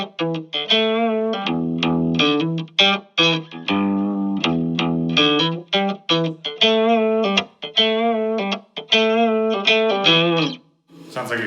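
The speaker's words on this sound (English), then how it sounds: "So this is the octave tone I'm getting through my Fender." Electric guitar played through an octave effect into a Fender amp, with a thick doubled tone of chords and single notes in a steady rhythmic pattern of short strums and sustained phrases, loud and close, alone.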